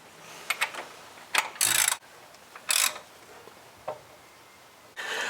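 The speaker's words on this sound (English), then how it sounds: "So I'm now going to turn it back round to ensure that the webbing on the crankshaft sits up against the" Intermittent mechanical clicks, ratcheting and short rubbing bursts as the crankshaft of a 2014 Ford Focus 2.0 Duratec engine is turned by hand with a tool during head gasket replacement, close up and quiet between bursts.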